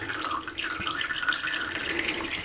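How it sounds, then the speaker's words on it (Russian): Hot water running steadily from a tap in a self-built bathhouse with a new boiler, a continuous close splashing stream with light dripping and no voices. "Итак, горячая вода открыта."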